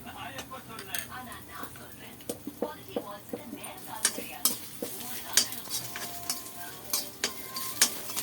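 Masala pori ingredients such as peanuts, garlic and curry leaves sauté in a pan, with frequent scraping stirs and ladle clinks over a soft sizzle while a voice talks quietly.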